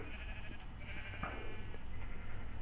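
Sheep bleating inside a pen in a video game, the calls faint and scattered over a steady low background hum.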